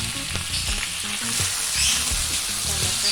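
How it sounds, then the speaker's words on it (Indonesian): Water is poured into spice paste frying for a spicy kikil (beef skin) curry, giving a steady, close, loud sizzle and bubbling with stirring throughout, no talk. "Kita tambahkan juga air putih."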